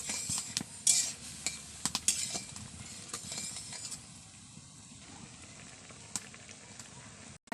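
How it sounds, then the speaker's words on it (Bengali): A spoon stirring masoor dal with turmeric and salt in a pot, light scraping and clinking strokes with a few sharp taps, fairly quiet and close, fading to a soft background hiss toward the end. "ভালো করে নাড়িয়ে নিচ্ছি।"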